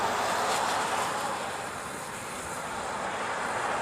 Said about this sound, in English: So this might be their charter flight.